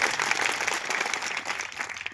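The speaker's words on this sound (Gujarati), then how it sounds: "એકવાર જોરદાર તાળીઓ ચંદુભાઈ માટે પાડીએ" A seated crowd at a community gathering gives a leader a dense, continuous burst of applause, many hands clapping steadily together at close range.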